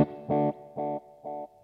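A Gokko Magrane echo machine in filter mode repeats a short tone three times, each repeat fainter and duller than the last, with the highs and lows thinning out.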